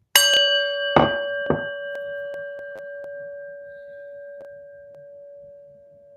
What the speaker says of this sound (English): and a prayer bell